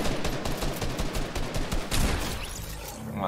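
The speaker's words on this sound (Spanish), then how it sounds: "Oigo tiros, desde luego" Dense bursts of rapid Fortnite gunfire crackle continuously, loud and chaotic, with overlapping shots and a brief heavier blast near the middle.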